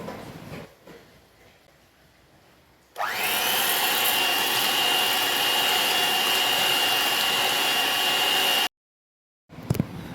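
An electric beater whips chocolate sponge cake batter, starting with a sudden loud, steady whir that runs about six seconds before cutting off abruptly, then a short burst near the end after quiet handling noises.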